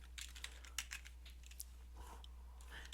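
Keys tapped on a computer keyboard while entering text into a document, a run of light, quiet clicks in irregular bursts over a steady low hum.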